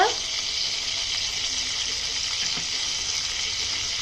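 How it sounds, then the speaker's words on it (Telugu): A tempering of cumin seeds, dried red chillies, curry leaves, green chillies and asafoetida fries in hot oil for a mango and cucumber dal, giving a steady, even sizzle close by. "తాలింపు బాగా వేగిందండి"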